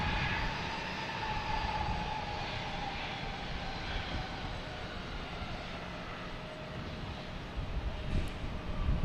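A British Airways jet roars during takeoff at Boston Logan, a loud sustained rumble with a broad engine whine that holds steady throughout and swells slightly toward the end.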